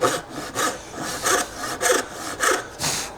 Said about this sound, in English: I switched to my dovetail saw just because I have a little more control because of the size of it.